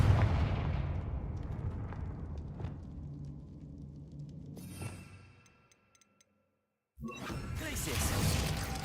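Fiery blast of the Confringo spell in the video game Hogwarts Legacy, a loud booming impact that decays into rumble, then silence before another burst of noise.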